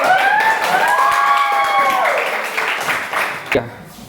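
Classroom of students clapping together at the end of a science lab lesson, a short burst of applause under the teacher's talk that fades out after a few seconds.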